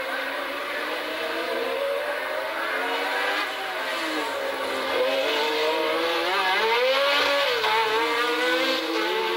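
Pironi's Ferrari Formula One car racing at the 1981 Long Beach street race, a continuous loud high-pitched engine scream with rising and falling pitch as cars pass in a pack, no talking.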